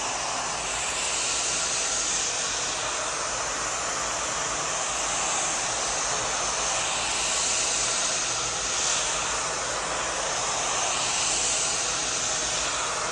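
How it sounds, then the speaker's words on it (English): A blow dryer fitted with a diffuser attachment blows on short hair, a loud, steady whooshing roar that holds for the whole stretch with only slight swells, and no voices. "I'm gonna actually use the diffuser, which you can purchase this as an attachment on your blow dryer"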